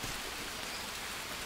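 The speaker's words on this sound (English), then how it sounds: "Oh, the rain." Steady rainfall in the video game Green Hell, a dense even hiss of drops that fills the whole moment with no other sound.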